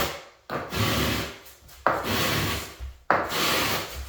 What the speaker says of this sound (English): You can hear it scraping when you're using the full notches.